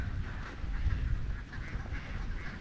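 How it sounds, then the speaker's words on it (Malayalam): Flock of ducks on the far bank of the Kadambrayar river, a constant mass of quacking heard from across the water, steady and fairly loud. "അക്കര സൈഡ് മുഴുവൻ താറാവ."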